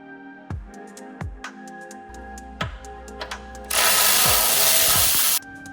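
A hand ratchet loosening 16mm and 10mm undershield bolts under a BMW G80 M3, close clicking bursts with metallic knocks, followed by a loud steady whirring burst of a power tool near the end.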